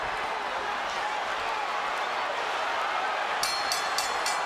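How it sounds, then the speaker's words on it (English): A boxing ring bell sounds at the close of the 9th round of Floyd Mayweather vs. Miguel Cotto, a quick run of sharp clangs near the end above a steady arena crowd roar. "There's the bell ending in the 9th round."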